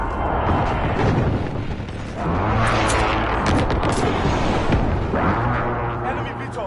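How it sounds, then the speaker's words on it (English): Precision airstrike explosions in Call of Duty: Modern Warfare, a dense, continuous roar of heavy booms and rumbling blasts layered over each other, loud and sustained throughout. "Enemy precision airstrike inbound."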